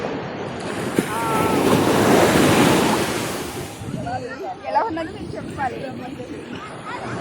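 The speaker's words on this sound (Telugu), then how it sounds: "ఓ ఇదంతా సముద్రం చూడండి" Sea waves surge and wash onto Ajman beach in the UAE, a broad roaring swell that peaks and recedes, with gusting wind and nearby voices talking over it.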